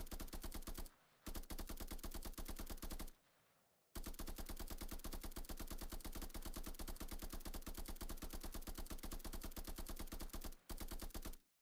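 Automatic fire from an Unreal Engine 5 third-person shooter test, a steady rapid stream of evenly spaced shots broken by a few short pauses and one longer gap, quiet overall.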